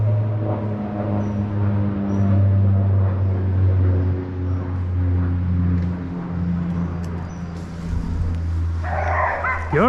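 Hunting dogs bark and yelp in rough bush while holding a wild pig, their noisy calls continuing over a steady, droning background hum.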